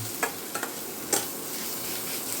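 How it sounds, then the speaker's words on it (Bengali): Stone-ground curry leaf paste is stirred into a hot pan with a gentle continuous sizzle, punctuated by a few quick scraping clicks of the spoon. "এই কারি পাতাটা দিয়ে দেবো, দিয়ে এর সঙ্গে একটু হালকা নেড়ে নেব"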